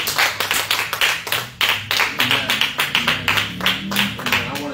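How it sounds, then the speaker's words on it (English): A church congregation claps in a steady, rhythmic beat during a worship service, loud and close, with voices joining in beneath the clapping. "Clap for the Lord."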